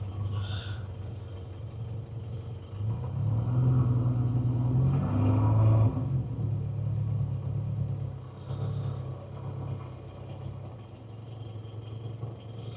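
A Mercedes W123 engine with an exhaust leak idles low and rough nearby, its rumble swelling slightly midway before settling back to a steady, uneven tick-over.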